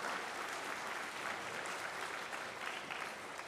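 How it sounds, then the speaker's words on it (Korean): Steady, dense applause from a church winter-camp audience for a 48-member combined choir, a continuous near wash of clapping with no voices over it. "우리 오늘 공연하신 분들 위해서 다시 한번 큰 박수 부탁드리겠습니다"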